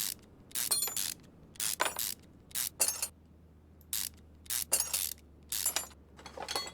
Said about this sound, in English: now we can take off our gearbox.